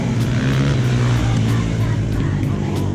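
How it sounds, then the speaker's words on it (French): A car slides through a corner at full speed on a track in Spain, its engine droning loud and sustained with a steady roar and some tyre noise, heard close. "Il arrive à fond et il glisse, voilà ici."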